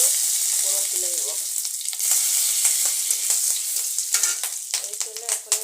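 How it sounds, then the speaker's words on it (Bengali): Panch phoron and dried chillies crackle and sizzle in hot oil, a bright close hiss broken by sharp popping spits and a few light utensil clinks. "এখন আমি এই তেলটাকে গরম করে নিয়ে এর মধ্যে 5 ফোড়ন আর কত শুকনো মরিচ দিয়ে ফোড়ন তুলে নেব"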